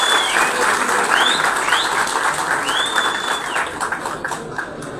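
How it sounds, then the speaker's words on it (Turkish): Loud, sustained audience applause at a Turkish store reopening event, dense clapping throughout with a few faint bird chirps above it. "Bunlara kuvvetli bir alkış alalım sizlere."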